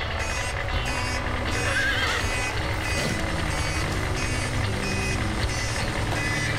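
Thoroughbred racehorses neigh and whinny over a steady backdrop of truck reversing beeps and engine rumble in a yard, with hoof clip-clops mixed into the continuous noise.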